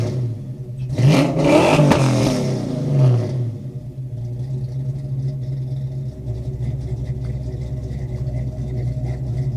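A Ford 351W V8 in a Fox Body Mustang revs through a Flowmaster muffler from about eight yards off, one loud rising throttle blip that falls back to a steady burbling idle.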